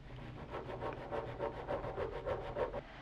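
A metal button shank is sanded by hand in quick, even back-and-forth rubbing strokes, close and fairly quiet, around ten passes with no voices.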